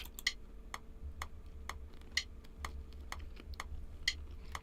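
Steady, evenly spaced clicks of a metronome at 120 beats per minute, every few clicks accented higher, quiet and alone over a faint low hum.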